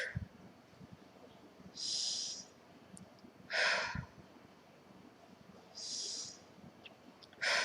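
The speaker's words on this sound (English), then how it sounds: "So we're going to breathe in 3 times." Three deep breaths are heard, each a loud airy inhalation spaced a couple of seconds apart and close to the microphone, with soft exhales and quiet pauses between, during a tapping exercise.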